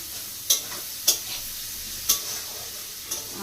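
Chicken kosha cooking in a wok: a constant low sizzle with four sharp scraping clanks of the spatula, spaced roughly a second apart, close and distinct.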